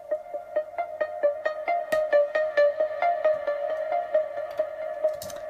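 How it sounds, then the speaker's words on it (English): A bright Nord Lead synth lead plays a fast, steady arpeggio of repeating plucked notes with clear, even rhythm, sounding alone and fairly loud. "So that was another sound which came from my Nord lead."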